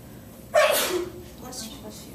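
A single sharp sneeze in a classroom, sudden and close. Quieter background murmur follows it.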